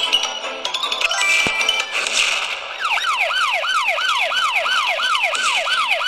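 A wailing ambulance siren in a mini car racing video game sweeps up and down in a fast repeating cycle, loud and close, after a few seconds of jingly game sounds.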